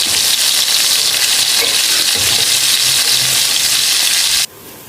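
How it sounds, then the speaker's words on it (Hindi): Eggplant and potatoes sizzle loudly in a pan with softened tomatoes as they are mixed in, a dense continuous frying hiss close up with faint stirring scrapes, no voices, ending abruptly as the noise drops away. "बैंगन और आलू हमने डालकर मिक्स कर लिया है"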